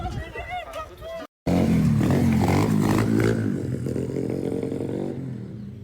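A motorcycle engine revs loud and close, a rough, sustained roar that swells and then tapers off, with voices and crowd noise mixed in around it.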